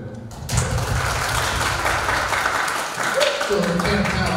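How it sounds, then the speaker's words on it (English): Audience applause in a school hall for a head of school's talk, broad steady clapping from many hands throughout, with talking mixed in underneath. "please allow me to give you a round of applause"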